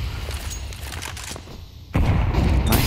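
A grenade explosion in Counter-Strike, a sudden loud boom that cuts in after a stretch of lower, rumbling gunfire-like activity and leaves a dense, sustained blast tail.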